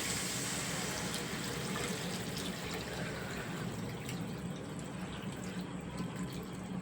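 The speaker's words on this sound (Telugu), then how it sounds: "ఈ చింతపండు వాటర్ మొత్తం ఇప్పుడు ఈ కర్రీలో పోసుకుంటున్నాను" Tamarind water poured into an egg and drumstick curry in a home kitchen, a soft, steady stream of liquid splashing into the pot, quiet and continuous with no talk over it.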